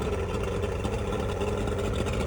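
A Mercury 150 outboard engine runs steadily with a dense, continuous motor drone, throttled up above idle during a charging system check, close and loud throughout.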